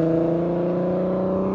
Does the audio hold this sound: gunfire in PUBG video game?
no